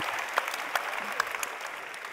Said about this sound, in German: let's give a round of applause for our teams